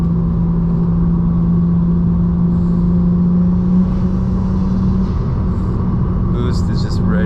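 A turbocharged BMW 335i's single-turbo N54 engine, running 30 psi of boost, drones loudly and steadily, its pitch holding then shifting as the car pulls, heard from inside the cabin.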